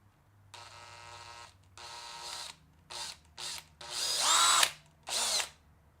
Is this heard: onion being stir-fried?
no